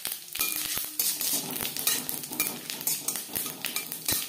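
Panch phoron and a dried chili fry in hot oil, giving a crackling sizzle under busy clatter of a spoon or spatula stirring against the pan, with no voices.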